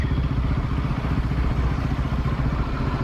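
A Royal Enfield Himalayan 450 motorcycle engine chugs steadily at low revs in third gear below 30, a dense, continuous mechanical thrum recorded up close with no voices.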